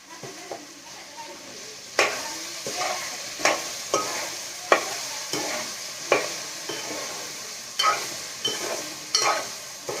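Ginger fries in oil for a bottle gourd curry while a spoon scrapes and stirs the pan in regular strokes, each stroke a clear close clatter over a continuous sizzle.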